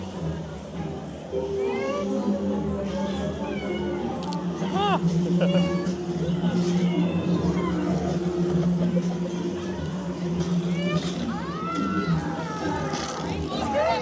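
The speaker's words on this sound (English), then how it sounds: "It's a cat. Beware of the cats." A cat meows several times in a haunted-house scare zone at a Halloween theme-park event, rising mewing calls over a steady mechanical hum and crowd noise with people talking nearby.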